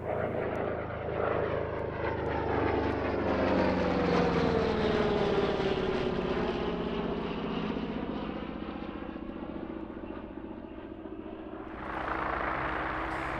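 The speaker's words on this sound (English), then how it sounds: "it needed an 18-cylinder Pratt & Whitney R2800 double Wasp radial engine" A propeller warplane's 18-cylinder Pratt & Whitney R2800 Double Wasp radial engine drones loudly overhead at an airshow, its pitch sliding down as it passes, then fading before a second roar rises near the end.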